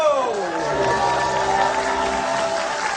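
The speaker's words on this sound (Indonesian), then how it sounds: "Tepuk tangan untuk Akbar ya." Studio audience applause and cheering on an Indonesian live comedy talk show, a steady dense clapping wash under bright tonal music for about three seconds.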